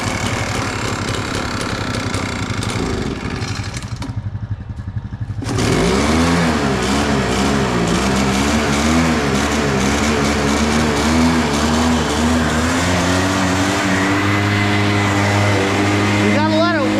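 A primed small engine on an old utility trailer rebuild sputters through a rough start, cuts out briefly, then catches and runs loud and steady at idle with wavering pitch, close to the microphone as people talk over it.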